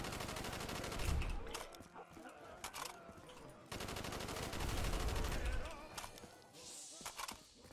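Rapid automatic fire from a Commando assault rifle in Call of Duty Custom Zombies, sustained bursts with short pauses, loud and close over game ambience, with a voice talking faintly underneath.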